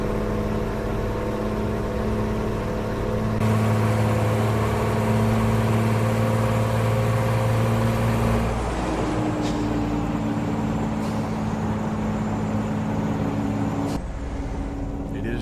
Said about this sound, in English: It's hard to hear the chimes with the engine screaming at me.